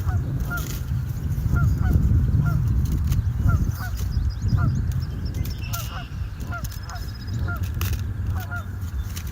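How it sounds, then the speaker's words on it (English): Geese honk repeatedly on a stream, a loose series of nasal calls at moderate distance over a steady rushing, rumbling background, with other birds chirping faintly. "The sound of the frogs, geese, and random birds is so peaceful."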